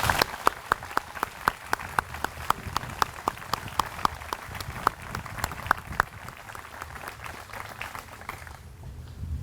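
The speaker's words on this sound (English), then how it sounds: "please join me in offering the entire group a big round of applause" A middle school closing ceremony audience claps for the students, the sharp individual claps sounding distinct and fairly sparse over a quiet room, then stopping abruptly near the end.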